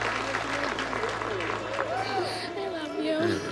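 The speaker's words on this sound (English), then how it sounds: "Big round of applause" Applause from diners in a restaurant dining room after a proposal, a steady wash of clapping under cheering voices and chatter throughout.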